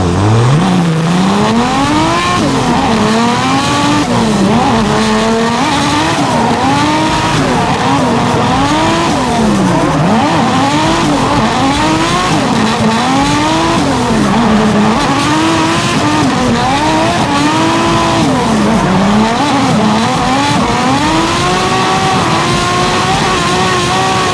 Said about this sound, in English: Dale Campaign putting down a really solid lead run, nice and fast into the first turn.